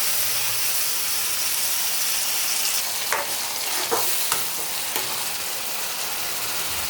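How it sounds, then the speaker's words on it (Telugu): Ground cucumber chutney being stirred in a hot frying pan: a steady, close sizzle runs throughout, broken by a few sharp scrapes of the spoon against the pan. "ఇప్పుడు మనం మిక్సీ పట్టుకున్న దోసకాయ చట్నీ వేసి బాగా కలుపుకోవాలి."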